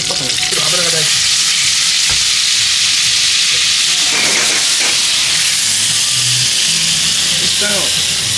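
Beef tongue frying in oil with a sweet sauce, a steady loud sizzle with stirring and scraping throughout, and a few short bumps of utensil noise.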